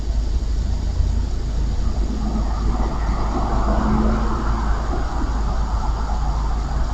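A car approaches along a residential street, a steady low rumble of engine and tire noise holding at an even level throughout with no voices.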